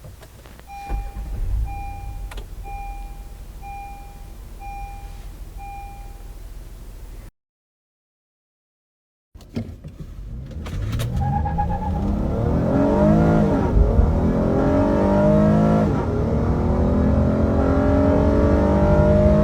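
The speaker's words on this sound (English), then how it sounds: "Engine startup." A 2018 Honda Odyssey engine cranks and fires after a short electronic chime and a gap of silence, then settles into a steady, fairly loud idle, heard close up with no talk.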